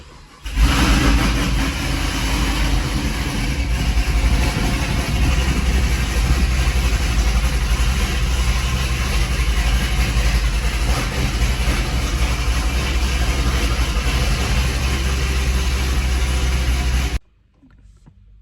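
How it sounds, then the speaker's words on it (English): A Camaro SS with a manual swap cranks and fires up, then runs at a loud, steady, rumbling idle for about sixteen seconds before cutting off abruptly. "No check engine lights, car's cranking with the clutch pedal."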